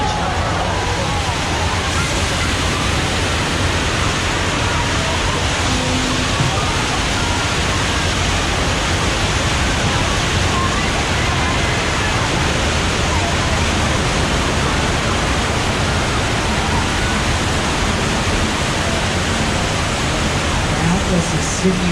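Heavy water gushing from a water effect on the Universal Studios Hollywood theme park tram tour, a loud, steady, broadband roar that continues unbroken with faint crowd chatter underneath.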